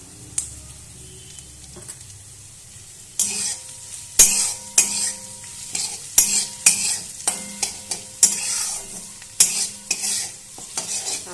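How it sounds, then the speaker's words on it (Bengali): Vegetables fry in a pan with turmeric and salt, with loud rhythmic scraping strokes of a spatula stirring them over a bright sizzle that builds after a quieter start. "তো বন্ধুরা এইভাবে ভালো করে ভেজে নিচ্ছি একটু সামান্য পরিমাণ হলুদ আর নুন আমি একটু দিয়ে দিলাম"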